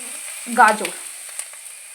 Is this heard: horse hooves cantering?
no